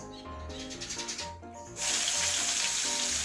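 A brief splash and bubbling, then loud continuous sizzling as small fish fry crisp in hot oil in a pan, steady and close.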